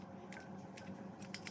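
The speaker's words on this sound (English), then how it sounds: "And I'm using cooking shears." Kitchen shears snip through scallions in a few quick, crisp cuts close by, for a Jamaican-style braised beef short rib dish, over a low steady room hum.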